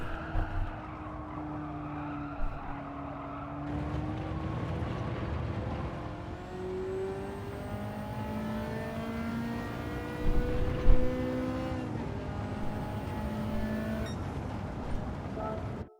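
Race car in Gran Turismo 7 on a licence test, engine revving continuously with rising and falling pitch through gear changes and corners, occasional tire squeal, loud and close throughout.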